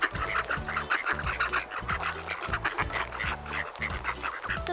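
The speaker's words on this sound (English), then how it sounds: "So those are the ducks." Ducks on a farm quack in a rapid, repeated series, close and clear with no talking over them.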